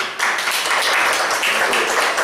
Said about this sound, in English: we should give a small round of applause